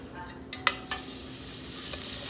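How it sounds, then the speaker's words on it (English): A single chicken wing dropped into hot oil to test the heat, with a few sharp splashy clicks as it goes in, then a steady close hiss of frying that builds slightly, no talk. "I'm going to put one wing in just to see if the oil is ready"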